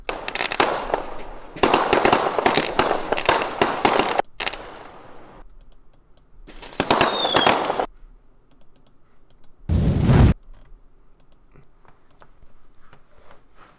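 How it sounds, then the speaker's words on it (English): Fireworks sound effects play in several separate loud bursts of crackling explosions, one with a whistling screech, divided by quiet gaps, with a short sharp blast near the end. "Let me look at my fireworks sounds."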